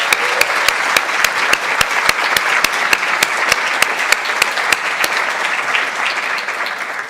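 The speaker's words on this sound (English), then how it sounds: "Could we give a big clap for Aurora?" Dense, loud applause from a large audience, with sharp individual claps popping out steadily over the wash of clapping throughout.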